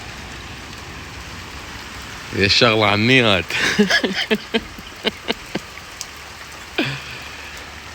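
Rain falling outdoors in Dujail, Iraq, a steady hiss of drops on surfaces throughout, with someone talking loudly over it for a few seconds.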